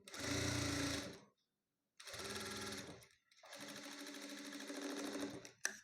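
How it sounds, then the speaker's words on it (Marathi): A sewing machine stitches a blouse in three loud, rapid mechanical bursts separated by short silent pauses, ending with a brief click. "हे पहा मी अर्धा भाग शिवून घेतलेला आहे आता हा राहिलेला अर्धा भाग शिवून घेणं"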